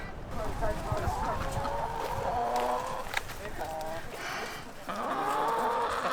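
Chickens cluck and chatter nearby in a steady run of short calls, with a person speaking over the flock as grubs turned up by a 72-inch tiller are offered.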